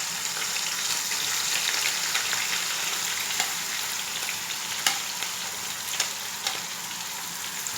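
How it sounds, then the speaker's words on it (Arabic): Onions frying in hot oil in a pan for Egyptian koshari, a steady, close, loud crackling sizzle with occasional sharp pops and stirring clicks, no voices. "دلوقتي الزيت بتاعي سخن، انا هحط نص كميه البصل"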